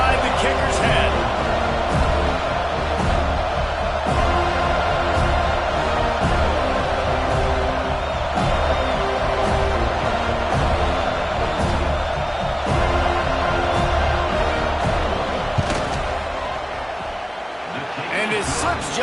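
Stadium crowd roaring steadily through a college football field goal attempt, Miami at Florida State, a dense, loud wall of noise with a play-by-play voice running over it throughout.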